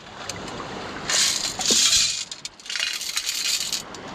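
Coins clink and rattle in a metal detecting sieve in the Baltic Sea, close bright jingling in two bursts over the wash of shallow water.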